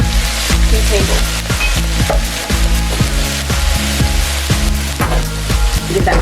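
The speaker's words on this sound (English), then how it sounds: "Give that a quick stir." Chicken and vegetables with soy sauce stir-fry in a pan, a loud steady sizzle running throughout while a utensil scrapes and knocks against the pan in a quick repeated rhythm, close up with no talking.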